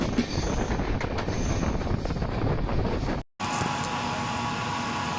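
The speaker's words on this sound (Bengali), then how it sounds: "আর ট্রেন দুরন্ত গতিতে ছুটে ছুটে চলেছে।" A passenger train on the way to Haridwar races along the rails, heard from inside as a loud, continuous rumble with rapid wheel clatter and screeching, briefly cut by a short dropout.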